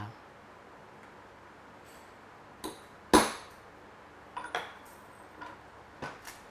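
Several sharp, separate taps of a hammer striking a rivet into leather for a keychain, spaced irregularly over quiet background, one blow much louder than the rest.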